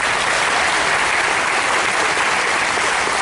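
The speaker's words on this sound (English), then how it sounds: "Let's give these guys a good round of applause" A show audience gives a round of applause, dense, steady clapping from many hands that fills the whole stretch with no voices over it.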